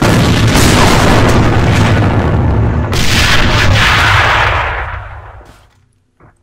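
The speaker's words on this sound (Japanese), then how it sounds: "前方に手榴弾！" Grenade explosions and gunfire in the online shooter game AVA: a loud, continuous barrage of booms and shots that rolls on for several seconds, then fades to near silence.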